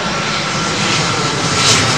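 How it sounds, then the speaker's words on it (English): British Airways Airbus A350 jet on arrival at London Heathrow runway 27L, its engines a steady, loud broadband roar that swells slightly toward the end, with no voices. "British Airways A350 returning from having aborted its arrival into Tel Aviv"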